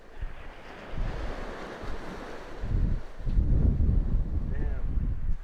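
Wind gusting outdoors, buffeting the microphone in low rumbling surges that grow louder toward the end, with someone talking over it.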